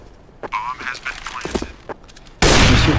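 Gunfire in the Overwatch shooter game breaks out in a sudden loud, dense burst near the end, after a stretch of quieter game effects and a voice speaking.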